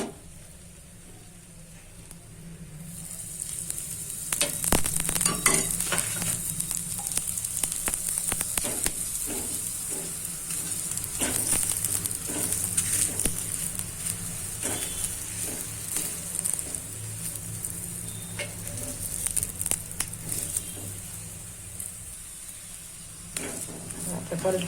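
Gujarati Jain dhebra roasting on a hot pan, a soft steady sizzle that swells after a few seconds and continues with faint scraping and tapping sounds throughout.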